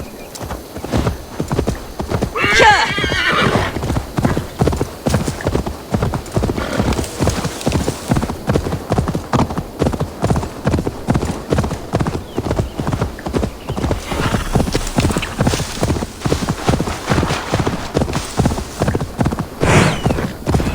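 Rapid rhythmic hoofbeats of a galloping horse in Assassin's Creed Valhalla run continuously and loudly, with a horse whinnying briefly near the start.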